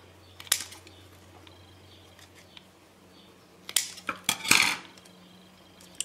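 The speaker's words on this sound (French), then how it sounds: "Donc là, je vais couper aussi les excédents" Excess modelling paste being cut off for a steampunk leather album, a few sharp close snips and clicks of a blade, isolated at first and then clustered in a quick burst, over a quiet background hum.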